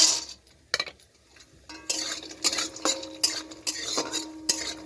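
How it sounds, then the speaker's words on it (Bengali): Lentil dumplings (bori) frying in a pan, with a utensil scraping and clinking against the pan in irregular strokes over a faint sizzle, close and moderately loud. "আগে আমি বড়িটাকে ভেজে নিচ্ছি"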